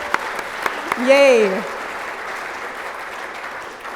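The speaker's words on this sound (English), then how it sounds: "Yes, let's clap." Audience applause at a humanitarian charity breakfast program, a steady wash of clapping throughout, with one voice cheering briefly near the start.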